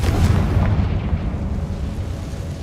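A loud, close Confringo fire spell explodes in a Harry Potter video game, a heavy booming burst that dies away into a fading rumble.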